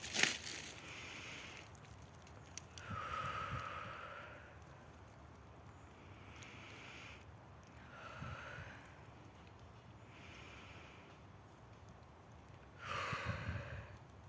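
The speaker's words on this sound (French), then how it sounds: "je vais faire 3 respirations" Three slow, deep breaths taken during an outdoor meditation among chestnut trees, each a soft, airy inhale and exhale spaced a few seconds apart, close and quiet with faint background ambience.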